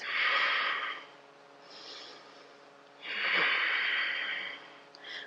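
Slow, deep breaths during an intermediate yoga flow: two long, airy exhalations with softer breaths between them, close to the mic and fairly quiet.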